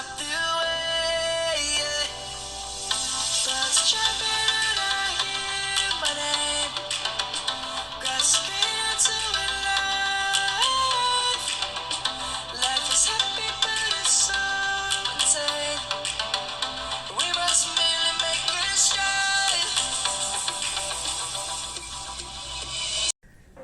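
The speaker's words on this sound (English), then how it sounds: "Speaker on this phone is decent and is adequately loud." Music plays steadily and fairly loudly from the built-in speaker of a Samsung Galaxy A21s smartphone for about twenty seconds, then cuts off abruptly.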